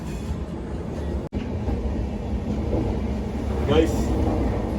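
Steady low rumble of a moving Indian Railways train heard from the open doorway area of a coach, with broadband rattling noise throughout, plus a brief squeal near the end; a voice may be faintly present.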